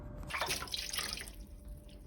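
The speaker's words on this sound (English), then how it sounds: "Just a little bit of water in there so nothing burns." Water splashes and trickles into a pot set up for dyeing yarn, a short close pour that tapers off into quiet hiss.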